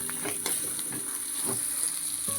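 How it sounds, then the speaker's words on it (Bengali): Chili powder and turmeric spice paste frying in a pan for a potol and prawn curry, a steady sizzle with scattered soft stirring scrapes throughout. "এবারে লঙ্কা গুঁড়াটা দিয়ে দিই, দিয়ে কষিয়ে নেবো মশলাটাকে"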